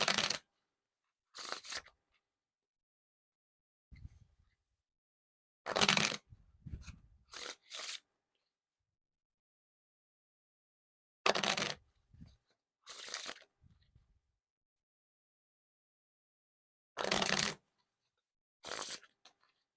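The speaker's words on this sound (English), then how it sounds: "Now for the riffle shuffle or bridge shuffle." A deck of Bicycle Rider back playing cards is riffle shuffled in short bursts, each a quick fluttering rasp followed by a soft tap, repeated several times with quiet pauses between.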